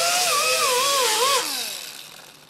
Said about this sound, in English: go ahead and run your Scotch-Brite disc over your intake ports just to get them cleaned up